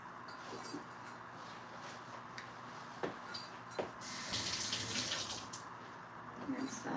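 Tap water runs steadily into a kitchen sink while something is rinsed under it during cheesecake and chili prep, with a few soft clinks and knocks and a louder gush midway.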